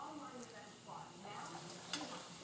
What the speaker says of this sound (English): add your cabbage and give that a good stir so that all the ingredients get mixed thoroughly